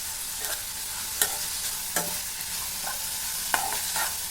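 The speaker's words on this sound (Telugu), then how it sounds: "మిక్స్ చేసుకుందాం బాగా" Washed beans frying in a pan for a beans curry and being mixed, a steady close sizzle punctuated by several sharp spatula scrapes and taps, no voices.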